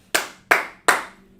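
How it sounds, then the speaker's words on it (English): Four sharp, evenly spaced claps ring out close and loud, each with a brief decaying tail, sounding more like a single pair of hands than a crowd. "Clap it up for Sister Yana."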